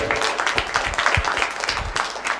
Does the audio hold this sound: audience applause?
yes